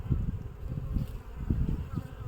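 Low, droning hum of many honeybees buzzing together up close in a hive, rising and falling in rough pulses.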